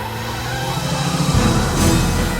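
A sports car in the game Broken Sword 3 tears past close by with a loud roaring rush and skid, its engine noise swelling over a low rumbling backdrop.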